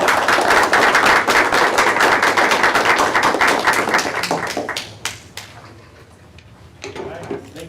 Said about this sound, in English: And round of applause for you,